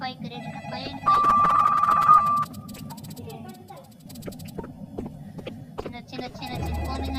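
A phone rings with a steady electronic tone inside a Roblox ghost-hunting game, then gives way to clattering game noises while a player talks over them.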